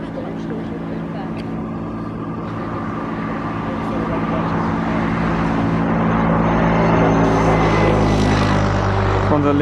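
A Sky Express ATR turboprop approaches to land on Zakynthos, a steady droning propeller hum that slowly swells louder as it comes in, heard from a distance with wind and ambient noise and some speech mixed in.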